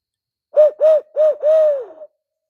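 A human voice imitates an owl at night in Larue County, Kentucky, giving four close, loud hoots in quick succession, the last one drawn out longer than the rest.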